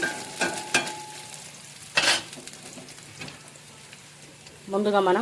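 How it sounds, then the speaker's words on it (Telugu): Curry leaves and garlic crackling in melted butter, with scattered sharp spits and pops over a soft sizzle, interrupted by a louder scrape, while someone talks at the start and end. "కరివేపాకు కొంచెం చిట్పట్ అయిన తర్వాత"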